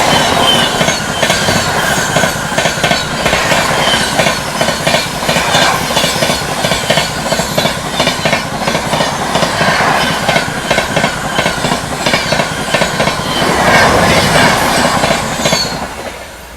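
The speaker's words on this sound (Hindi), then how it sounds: "सामने से क्रॉसिंग होने वाली दोस्तों VVIP Prayagraj express Prayagraj new Delhi" The VVIP Prayagraj Express, Prayagraj to New Delhi, passes close by on an adjacent line, a loud continuous rush of rapid clickety-clack wheel beats with metallic squeal throughout, fading slightly at the end.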